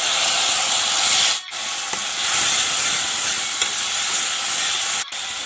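Spice masala hits a hot pan of ginger, garlic and salt and sizzles with a steady, loud hiss that runs on alone, broken by two brief gaps.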